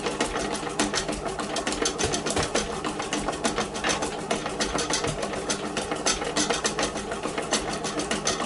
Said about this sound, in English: If you listen, the machine is working more hard